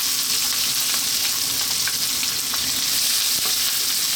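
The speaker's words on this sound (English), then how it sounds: "Let's drop in our onion." Chopped onion sizzles loudly in a pan over high heat for a salmon fish curry: a dense, constant close frying hiss with faint stirring scrapes, and no talking.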